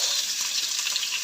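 Onions fry in a pan with a steady, dense, hissing sizzle, close and even throughout, with no voices.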